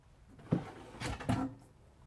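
A kitchen drawer in a 2020 Jayco Eagle 357MDOK fifth-wheel RV slides open and shut, two soft wooden thuds with a brief rolling rumble between them, close and fairly quiet.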